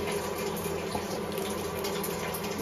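Water poured from a cup into a pot of pui shak (Malabar spinach) curry, a steady close liquid gush and splash running throughout with a faint kitchen hum beneath.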